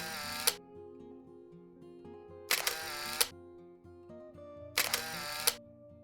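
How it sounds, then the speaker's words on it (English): Three crisp Samsung Galaxy A53 5G phone camera shutter clicks ring out a couple of seconds apart over soft background music. "So I'm gonna take some pictures with this camera with artificial lighting."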